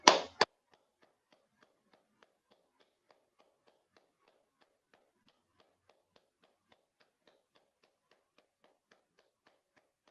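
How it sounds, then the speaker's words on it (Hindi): Hands clap together in a short loud burst as a meditation session ends, then fade into faint, evenly spaced soft taps that continue quietly for several seconds. "क्लैपिंग करेंगे।"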